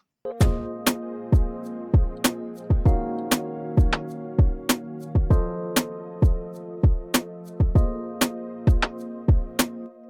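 Layered synth pads from an Afrobeats-style production hold steady sustained chords, while crisp percussive hits strike at a regular rhythm over them, loud and upfront.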